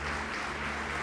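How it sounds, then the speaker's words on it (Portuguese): A church congregation claps together in a dense, steady burst of applause, close and continuous for about a second with no other sounds. "Vamos aplaudir Jesus."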